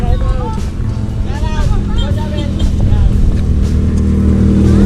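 A motorcycle passes on a road in Quezon Province in the Philippines. Its engine drones and rises in pitch as it draws near and grows louder, while people talk over it.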